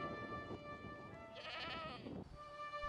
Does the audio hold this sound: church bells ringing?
no